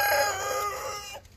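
A chicken gives a short, close, fairly loud cry with tonal clucking that fades within about a second, with no talk over it.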